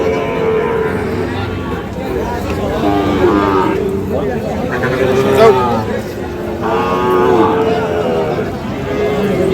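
Cattle low at a busy village livestock market where Sahiwal bull calves are sold, long deep moos rising above a dense crowd and constant chatter of traders bargaining nearby.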